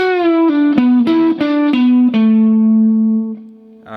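Electric guitar run through effects plays a chunk of a song's second solo, a string of sustained picked notes sliding between pitches, then one long note ringing and fading, loud and close with no talking.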